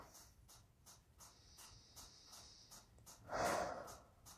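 Slow, deep breaths drawn in and let out during a pain-management meditation, faint and close, with one louder exhale near the end amid quiet, soft ticking.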